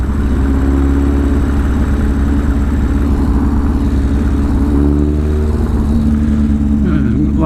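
A Yamaha XS11 motorcycle engine runs steadily at idle, a loud continuous low rumble close by, outdoors in winter in Hobart.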